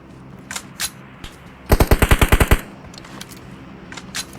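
A rapid burst of about ten automatic gunshots rings out in a PUBG Mobile battle-royale match, loud and close, with scattered softer shots before and after.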